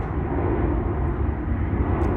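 An airplane passes overhead as a steady, broad low roar that holds at one level for the whole stretch, with no voices.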